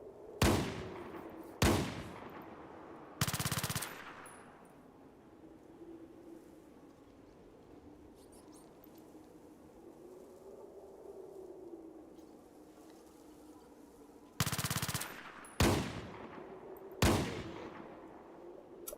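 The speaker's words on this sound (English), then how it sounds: "the gun sound is really satisfying" Sharp, loud gunshots from the tactical game Fallout Tactics, a cluster of three early on and another burst of three near the end, with a quiet low hum between them.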